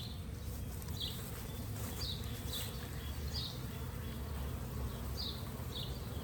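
A shipped package of about 10,000 honeybees with a queen hums in a steady, dense buzz, with a few brief higher whines from individual bees standing out over the constant low drone.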